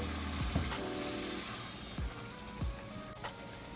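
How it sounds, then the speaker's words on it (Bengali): Steady sizzling of a spice paste frying in a pan with a little water, with a few soft scraping stirs cutting through the continuous crackle. "পানি দিয়ে আমি মশলাটা ভুনে নেব"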